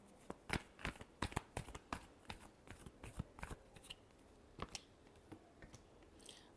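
Tarot cards are shuffled close up in a quiet room, a quick run of crisp riffling snaps and soft slides in an uneven rhythm.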